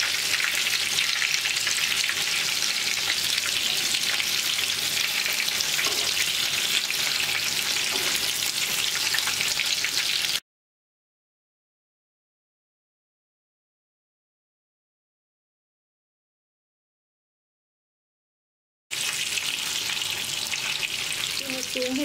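Crispy chicken pieces fry in hot oil with a dense, continuous bright sizzle, steady and close, broken by a stretch of complete silence before the sizzling resumes.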